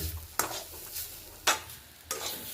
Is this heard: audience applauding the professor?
no